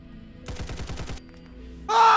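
An AKM rifle in Fallout 4 with a weapons mod fires a rapid burst of about seven sharp, close shots. After a short pause, a brief loud, harsh, bright burst of sound follows.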